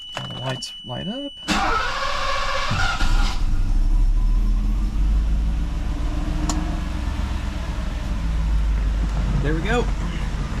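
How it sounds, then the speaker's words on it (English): A 1985 Mercedes-Benz 500SEC with a cold Euro M117 V8 cranks on its starter motor with a high-pitched, fast cyclical whine, then catches and settles into a steady, close idle rumble, with a brief voice at the start. "It's that familiar starter noise of a Euro M117. They got a really high-pitched, fast cyclical whine to it."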